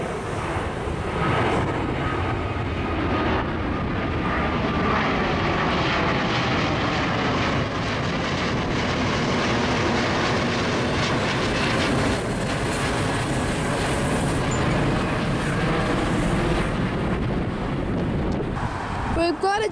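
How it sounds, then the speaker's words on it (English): A Cathay Pacific Airbus A350-900 jet airliner at Sydney Airport, its engines producing a loud, continuous roar close by with wind buffeting the microphone, sustained across the whole stretch. "This is a Cathay Pacific A350-900."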